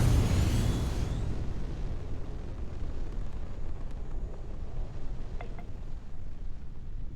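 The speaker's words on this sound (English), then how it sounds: "We're hitting 200, which isn't too bad. Hitting the boost." A C-class battleship in Starfield fires its boost engine with a loud roaring blast that swells at first, then settles into a steady, low, windy rumble with faint whines.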